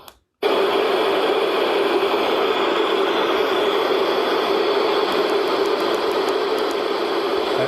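A Dreamegg D11 portable sound machine plays its fan sound, switching on abruptly into a loud, steady whooshing hum with a faint periodic flutter and no voices.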